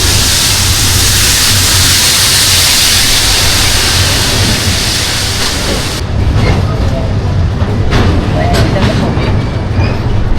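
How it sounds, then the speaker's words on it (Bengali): Loud, constant rumbling roar of the Coromandel Express passenger train running from Chennai to Kolkata, heavy broadband noise throughout, with the hiss dropping slightly partway through. "যেইভাবে ট্রেনটা এগিয়ে যাচ্ছে"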